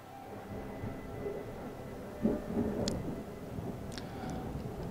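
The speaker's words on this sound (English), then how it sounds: "I do apologize if you hear thunder and lightning." A low, rumbling roll of thunder from a storm outside a house swells briefly mid-clip over faint background noise, distant and fairly quiet.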